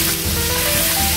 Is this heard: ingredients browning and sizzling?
yes